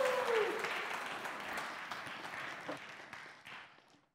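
An audience at a tech lecture gives a round of applause, a soft, fairly distant patter of clapping that gradually tapers off, with a brief voice near the start.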